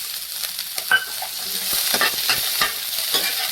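Onion and capsicum being stirred in a frying pan, with a steady hiss of sizzling oil under repeated scraping and clinking strokes of a spatula, close by and with no talking.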